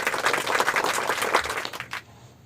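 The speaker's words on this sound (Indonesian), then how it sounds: "kita kasih tepuk tangan dulu" A classroom of students claps in a brief burst of applause that stays lively, then tapers off and fades out near the end.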